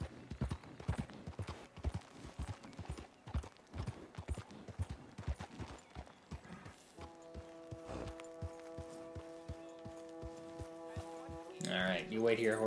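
Horse hooves in the video game Red Dead Redemption 2 clip-clop in a brisk, steady rhythm close by, then slow and stop as a low tonal hum and a voice come in.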